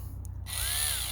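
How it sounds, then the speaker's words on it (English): A power screwdriver spins up after a couple of short clicks, its motor whining loudly and steadily up close. "screwdriver, power screwdriver."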